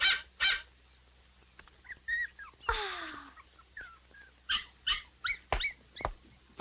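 A large white dog barks in short sharp bursts, several separate barks spaced irregularly, fairly close, with a whining call in between and no talk over them.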